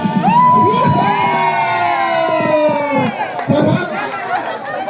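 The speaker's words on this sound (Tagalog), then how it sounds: "Palakpak natin yan!" A lively crowd shouts and cheers after a group presentation at a church praise event in Masbate, a dense wall of voices and whoops under a loud nearby voice calling out.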